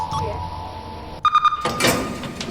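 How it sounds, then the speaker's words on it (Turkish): A door opens in a Roblox escape game: a few short beeping tones of a code entry give way to a sliding, whooshing open, with a voice talking over part of it. "evet kapıyı açtık arkadaşlar"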